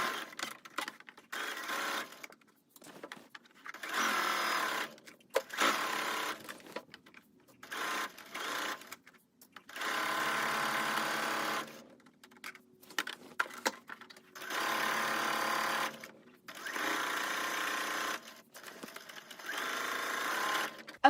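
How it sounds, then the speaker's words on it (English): A sewing machine stitches tulle to a lining in repeated bursts of fast, steady stitching, stopping and starting again with short quiet pauses between runs. "I'm gonna sew the tulle all the way around on my sewing machine"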